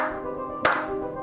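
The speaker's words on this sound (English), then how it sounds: "A slow clap emerges from behind." A single sharp hand clap rings out from behind the listener, standing out once against a sustained, humming tonal backdrop before the steady wash resumes.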